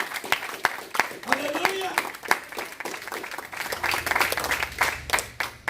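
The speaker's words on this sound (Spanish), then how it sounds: "Denle una ofrenda de aplausos al Señor" A church congregation breaks into brisk, scattered applause, with sharp claps building to a denser patter. A voice calls out over the clapping.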